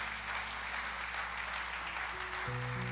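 A church congregation applauds at a Spanish-language service, a soft, distant, even wash of clapping under a low organ or keyboard drone, with sustained chords swelling near the end.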